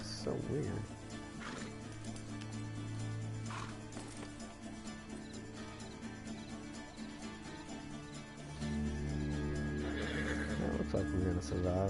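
Horse neighing and whinnying in the Red Dead Redemption 2 video game, with hoof clip-clop and game music underneath, and someone talking over parts of it.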